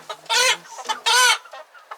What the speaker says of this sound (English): That's one of the bully chickens chasing one of the juveniles out of the little pen here.